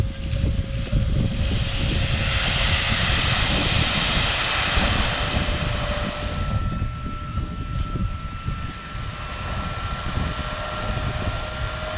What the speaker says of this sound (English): Grab the BX in the bucket and haul it over to the pad.